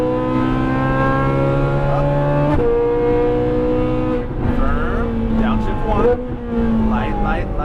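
A Ferrari 458 Italia on a race track runs with a strong, close engine note that rises and falls as throttle is rolled on and eased. A voice seems to talk over it.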